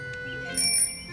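A bright metallic bell rings once, sharp and close, like a small bicycle-style bell, sounding as a trap door on a dinosaur cage snaps shut, over a faint steady background hum.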